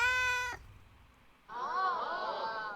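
A cat meows twice, a long harmonic yowl up close, then a short pause and a wavering, drawn-out second meow, loud with no other sounds.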